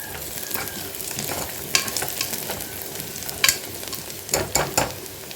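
Onions sauté in ghee in a pan for a village-style mutton curry, a close continuous sizzle with brisk scraping and clattering stir strokes, several louder bursts near the end.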